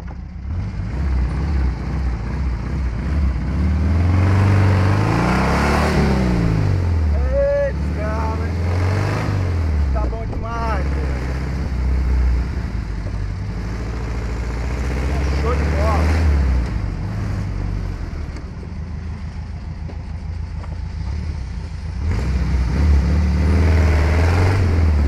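A buggy engine with a gear-shifting problem revs in several rising and falling surges while maneuvering, loud and close, over wind noise on the microphone.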